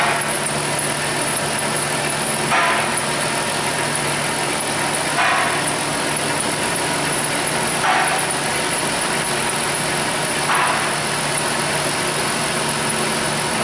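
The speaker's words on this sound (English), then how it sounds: "I've got the engine running and it's cold right now." A cold engine idles steadily during a head gasket test, a continuous close mechanical hum with faint periodic brief rises roughly every few seconds and no talk.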